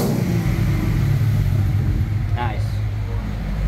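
A 1986 Ford F150 with long tube headers, an X pipe and dual Magnaflow exhausts rumbles at a deep, loud idle close by, then gives one quick rev that rises and falls before it settles back.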